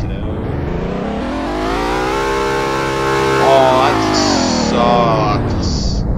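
A BMW engine in a driving video game revs up in a long rising and falling drone with harmonic whine, loud and close, and a few short electronic beeps near the end.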